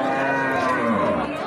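A single cow at the Horgoj cattle market gives one loud, drawn-out moo lasting just over a second, close by and clear over faint crowd noise.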